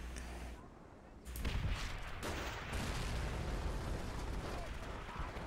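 Heavy tank cannon blasts and battlefield gunfire in Call of Duty: World at War, a dense, booming wall of explosions and shots that swells after a brief lull and rumbles on continuously, with speech underneath.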